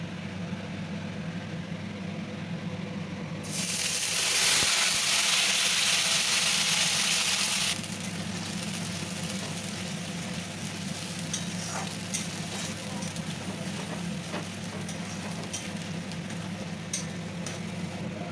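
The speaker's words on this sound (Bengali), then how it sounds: "এই পেঁয়াজটা আমি ততক্ষণ নাড়তে থাকবো যতক্ষণ না পর্যন্ত পেঁয়াজ থেকে একটা লালচে কালার আসছে।" Onion paste frying with whole garam masala in a pan, a steady close sizzle that swells into a loud hissing burst for a few seconds, then settles back to a softer sizzle with light stirring scrapes.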